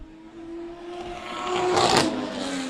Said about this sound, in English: Rev limiter.